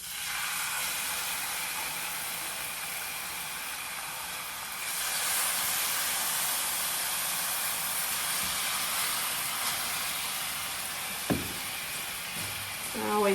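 Cod fish sizzling in a skillet, a steady hiss that swells and brightens about midway and then keeps going, with a sharp clink near the end.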